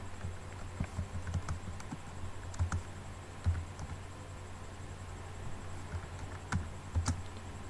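Text being typed on a computer keyboard in a word processor: quiet, irregular key clicks in short bursts over a low steady background hum.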